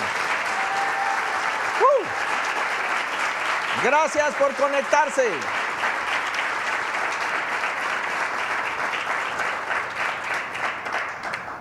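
Applause from a Christian church congregation rings out steadily and at moderate volume. Someone briefly speaks over it at the start, and a few cheering voices rise through it partway in.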